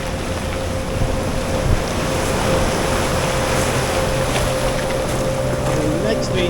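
Ocean waves surge into a sea cavern archway at Chin Beach on Vancouver Island's Juan de Fuca Trail, a steady, loud roaring wash with wind-like hiss that persists without a break and carries no talk.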